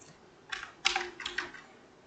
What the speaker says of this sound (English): Now let's type in capital page 2.